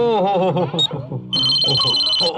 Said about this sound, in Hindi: फोन किधर बजा?